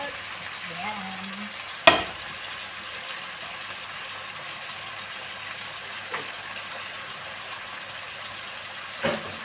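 Blanched broccoli and carrots go into a hot frying pan, a steady close sizzle broken by a few sharp clanks of utensil on pan, with a brief faint voice near the start.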